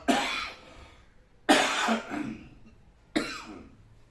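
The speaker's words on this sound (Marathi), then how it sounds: "गेल्या 3-4 दिवसापासून थोडा त्रास आहे सर्दी खोकल्याचा" A man with a cold of several days coughs three times in separate bursts, each a sharp, loud onset trailing off into a rough, wet rasp, close to the listener with short pauses between.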